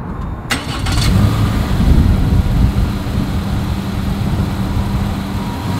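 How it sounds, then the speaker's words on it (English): A 2020 Subaru Crosstrek's exhaust heard from behind the car: a brief clatter as the engine starts, then a steady, fairly loud idle rumble that holds to the end. "So as always, here is that exhaust clip."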